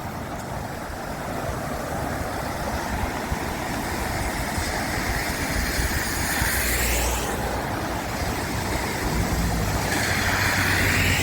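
Steady broadband rushing of a river in winter at Villafranca del Bierzo fills the whole clip, continuous and fairly loud, with a couple of brief whooshes passing over it.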